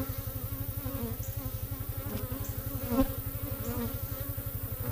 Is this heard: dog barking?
no